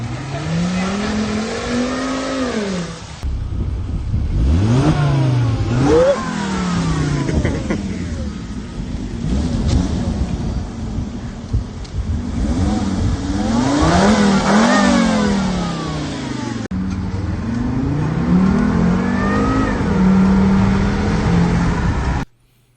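Bone-stock daily-driver car engine recorded through a phone, revving repeatedly with rising and falling pitch sweeps, loud and close, several hard blips over about twenty seconds, with no talking.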